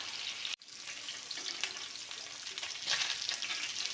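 Sankara fish frying in hot oil, a bright, steady crackling sizzle close up with a brief scrape or stir partway through, continuous and alone without talk.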